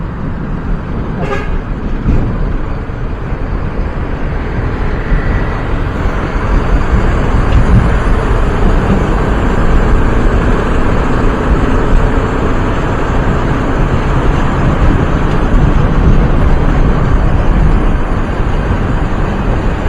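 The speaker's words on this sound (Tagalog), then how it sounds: "Traffic eh" Busy road traffic in the Philippines, probably near Commonwealth, with a steady, loud roar of passing cars and buses, plus a short car horn toot early on, heard close by throughout with no talking.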